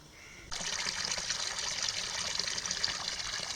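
Mountain spring water on Vitosha, Bulgaria, running steadily into a bottle after a sudden start, a close, continuous trickling splash with no talk.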